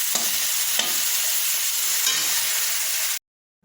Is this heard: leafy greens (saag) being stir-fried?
yes